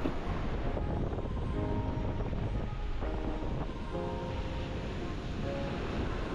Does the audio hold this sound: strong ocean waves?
yes